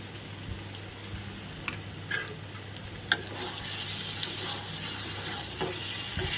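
Masala being sautéed in ghee in a pan over low flame, with cashew nuts in the mix: a soft, steady sizzle with occasional scraping and stirring clicks, close and fairly quiet, no talk.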